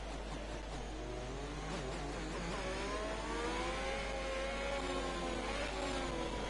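Racing cars on the Singapore GP circuit in a racing video game speed back up to full pace, engines revving and whining as the pitch rises steadily under a constant low drone.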